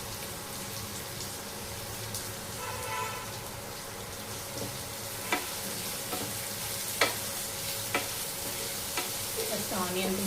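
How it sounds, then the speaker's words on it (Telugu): Onions roasting in a pan for tomato curry, frying with a steady sizzle while a utensil stirs and scrapes, giving a few sharp clinks against the pan near the end. No talking. "ఫస్ట్ ఆనియన్స్ బాగా రోస్ట్ అవ్వాలి"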